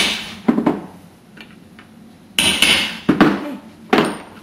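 A rivet setter is pounded with a hammer to set a scrapbook closure, sharp metallic strikes: two quick hits, a pause, then three more spaced blows, each ringing briefly, close up.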